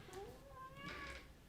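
A pet cat gives a single drawn-out meow with a rising, wavering pitch, close but soft, during a home workout session.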